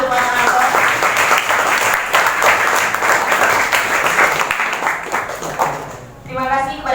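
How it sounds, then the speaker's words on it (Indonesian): Audience applauds a presenter at a school counseling seminar on preventing adolescent sexual violence, dense sustained clapping filling the room for about six seconds before it thins out and a voice begins speaking. "mari kita beri tepuk tangan yang meriah untuk Mas Anton."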